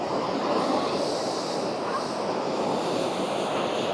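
Fast-flowing water rushes steadily in a continuous, loud broadband roar, close to the microphone with some wind buffeting and no pauses throughout.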